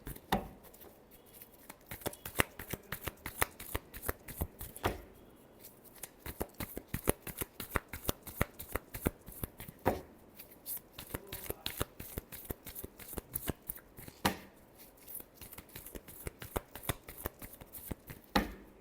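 A deck of cards is shuffled for a tarot-style reading, giving a fast continuous riffle of crisp flicking and slapping, recurring in bursts every few seconds, close and fairly quiet with no voices.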